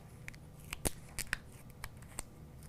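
Scissors snipping heat transfer vinyl for a shirt project, a few quiet, crisp cuts spaced irregularly over soft background noise.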